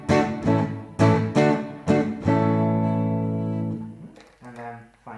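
Ural 650 Soviet electric guitar on its middle pickup, run through an AMT SS20 preamp with light reverb, plays four quick strummed chords followed by a long sustained chord that fades, then a final softer strum.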